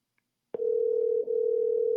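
A telephone ringback tone plays during an outgoing call, one steady, unbroken electronic tone that starts abruptly after a brief silence and holds at moderate volume with no talk.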